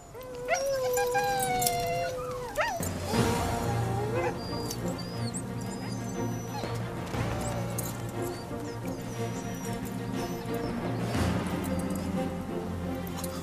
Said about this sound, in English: Huskies are originally from Siberia, where they've been used as sleigh dogs for centuries.